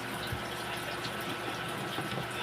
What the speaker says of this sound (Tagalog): Papalitan ko ng tubig to kasi sobrang init.